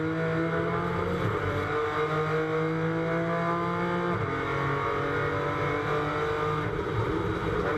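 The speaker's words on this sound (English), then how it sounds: "Great sound from the second place BMW, closing up under braking into turn 10." A BMW GT4 race car at Misano circuit roars close by while braking into a corner, its engine note shifting and dropping through downshifts over several seconds, loud and steady.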